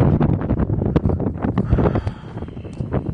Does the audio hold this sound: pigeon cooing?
no